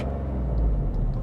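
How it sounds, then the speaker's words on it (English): A Kia Picanto GT 1.0 turbo engine drones low and heavy as it bogs down at low revs, a steady strained rumble with no voices. "if you get real low down in the revs, it does bog down a fair bit"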